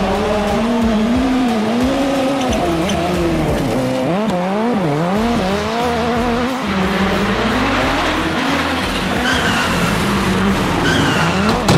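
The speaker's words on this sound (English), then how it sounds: "both of them lost control of their cars on the slope" Race cars in the DRC racing video game lose control on a slope, with loud, continuous engine whine and wavering, sliding tire squeals and skidding sustained for several seconds, close and unbroken.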